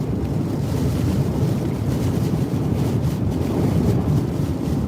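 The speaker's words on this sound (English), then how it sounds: "Winds are still probably 130, gusting to 165." Hurricane Ida's winds roar across Louisiana in a continuous loud, rushing blast, buffeting the microphone with heavy low rumble and no pauses.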